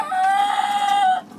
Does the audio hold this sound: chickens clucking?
yes